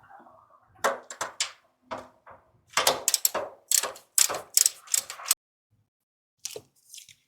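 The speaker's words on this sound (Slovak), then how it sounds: "Čiže musíme si demontovať tieto dve skrutky." A hand ratchet works two screws loose on a mini tractor during assembly, giving close, dry clicking bursts in several quick runs separated by pauses, with a short final click after a silence.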